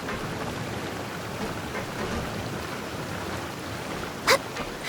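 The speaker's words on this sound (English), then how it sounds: "I love listening to the rain from the courtyard." Steady, soft rain falls in a courtyard in the video game Genshin Impact, a fine even hiss throughout, broken by one brief sharp tap just before the end.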